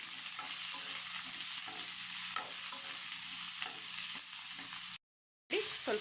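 Tomato and a spoonful of poppy seeds frying in a pan for a chicken curry, a soft, even sizzle with faint periodic stirring and a low steady hum beneath, briefly cut to silence near the end.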